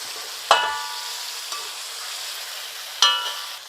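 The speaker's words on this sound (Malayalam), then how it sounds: "ഇതേപോലെ കളർ കിട്ടാൻ വേണ്ടിയിട്ടാണ് ചെറിയുള്ളി നല്ല പോലെ ഫ്രൈ ആക്കിയത്" Shallots frying in masala for a beef tongue curry, a faint steady sizzle punctuated by a few sharp stirring scrapes of a spoon against the pan.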